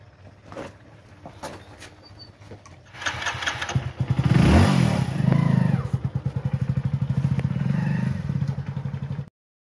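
A motorbike engine cranks and catches, revving loudly before settling into a steady, throbbing idle and pulling away close by, with a few thumps and clatter at the start.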